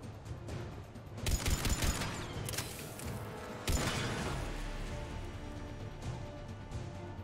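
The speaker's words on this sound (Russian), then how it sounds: "Что это за ссаный пулемет?" Machine gun fire in the video game Mass Effect 3, with sharp bursts of automatic shots and heavy impacts and rumbling booms layered over a busy combat backdrop, fairly loud, with no voices.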